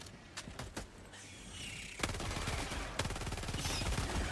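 Quick repeated shots from the pea shooter gun in Helldivers II, a few sharp cracks early then a denser stream of rapid fire, loud and close amid game noise, with no talking.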